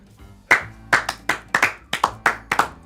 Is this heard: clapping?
yes